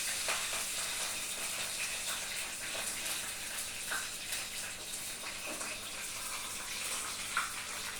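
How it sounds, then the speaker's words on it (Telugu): A tadka for drumstick sambar crackles and sizzles steadily in hot oil in a pan, a dense continuous frying hiss close up with a few brief pops and no voices. "ఇదిగోండి తిరగమాత అయిపోయింది"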